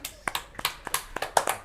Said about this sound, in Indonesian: tepuk tangan awake dhewe.